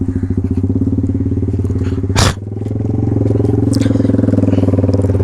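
A motorcycle engine idles close by with an even, throbbing pulse, broken once by a short scraping clatter before the steady chugging resumes.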